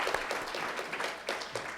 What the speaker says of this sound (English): So give yourself a big round of applause.